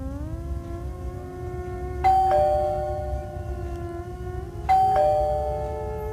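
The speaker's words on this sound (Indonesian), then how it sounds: "Suara bel gerbang rumah Ane" A house gate doorbell on a European-style home chimes twice, each a bright two-tone ding-dong ringing out over a steady low background hum.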